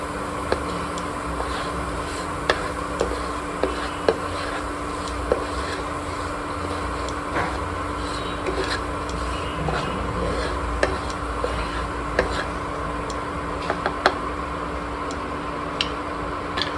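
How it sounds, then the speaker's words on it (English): Cumin seeds (jeera) crackle and sizzle in hot oil in a pan, a steady frying hiss with scattered sharp pops and ticks, close and alone without talk. "Now heat oil in a pan, add 1 teaspoon of jeera,"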